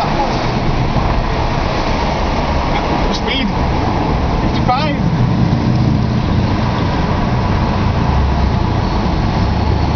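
A Renault Twingo driving through the Monaco F1 tunnel makes a constant, enclosed road and engine roar that echoes off the walls, with voices talking over it throughout.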